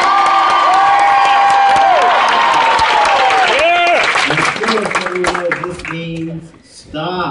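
A TV studio audience claps and cheers in a fast, dense burst for a live daytime talk show, loud and continuous with whoops, thinning into scattered voices toward the end.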